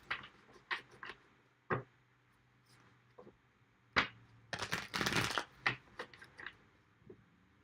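Tarot cards being shuffled by hand, heard alone as a series of quiet, irregular riffling bursts and soft card slaps, with a longer dense flurry of riffling near the middle.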